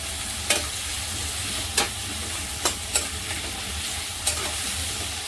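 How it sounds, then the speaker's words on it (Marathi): Tomato sautéing with asafoetida in a pan, a continuous moderate sizzle broken by several sharp spatula scrapes and taps at irregular intervals, close by with no talking. "थोडीशी हिंग टाकायची मग आणि एक मोठा टमॅटो टमॅटो पण चांगला परतून घ्यायचा आहे"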